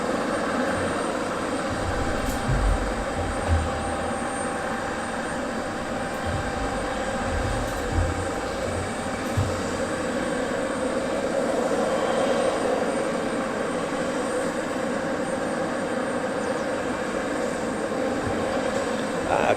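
An easyJet airliner on final approach to Southend Airport, its engines a steady, continuous broadband roar with a few brief low thumps, fairly loud and heard alone with no voices.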